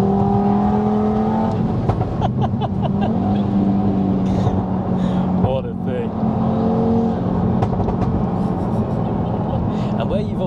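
A Stage 2 Audi TT RS tuned to 550 bhp revs hard while held in gear, its engine a loud, sustained drone with rising tones, as people talk over it from inside the car.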